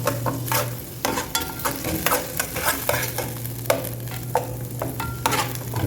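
Ground almonds and raisins are stir-fried in a pan, a soft sizzle under quick, repeated scraping strokes of a spoon, close and fairly even.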